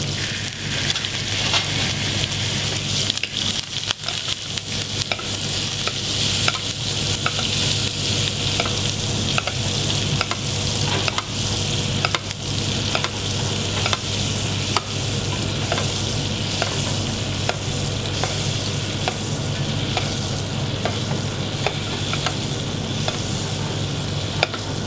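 Cod sizzles steadily in butter in a pan, with frequent scraping clicks from stirring scattered across a continuous, close-up frying hiss and no talking.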